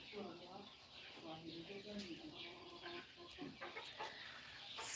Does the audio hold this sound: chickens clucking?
yes